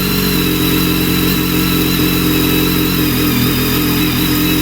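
A BMW K1300R motorcycle fitted with an Arrow slip-on exhaust runs with a steady, loud engine drone held at constant revs, no voices over it.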